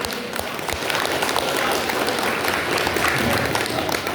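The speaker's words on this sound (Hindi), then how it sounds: "जोरदार इन लोग के लिए ताली भी बजा दीजिए" An audience applauds people arriving at a daily yoga class, a dense steady patter of many hands clapping for about four seconds, with faint voices underneath.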